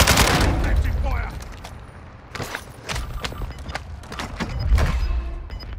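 Gunfire in the Call of Duty: Modern Warfare II video game: sharp bursts of rapid shots and scattered single cracks, loud and close, with faint background voices.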